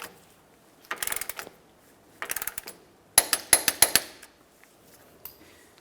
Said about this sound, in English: Let's snug this and then torque it to 80 foot-pounds.